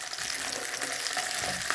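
Capsicum frying in oil in a pan, a dense crackling sizzle that holds steady and close for the whole short stretch, with no talking.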